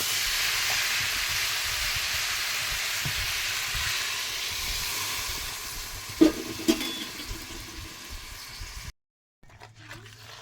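Water poured into a pan of frying masala for a fish and potato curry sets off a loud, steady hissing sizzle with a few sharp bursts, then it cuts off briefly before a quieter simmer returns.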